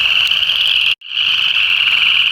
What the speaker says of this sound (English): that's another chorus frog